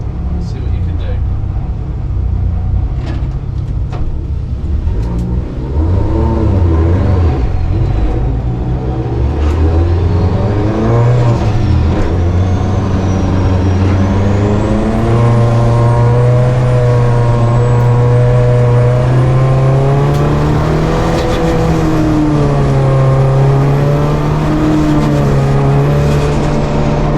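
A Mark 1 Ford Escort race car's engine heard onboard, revving and climbing through the gears at Snetterton circuit, loud and constant with rising pitch sweeps, while a commentator talks over it.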